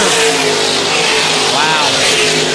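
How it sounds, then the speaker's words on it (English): Race cars roar around a short track oval at Harris Speedway on a Saturday night, a dense continuous engine drone with one car's pitch sweeping past, while a commentator talks over the noise. "And coming out of turn 2, it's the number 67, 61 car coming out of turn 4."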